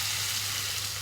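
Water hits a hot pan while cooking pineapple pulissery, giving a steady, close sizzle that holds evenly for the whole second with a low hum beneath.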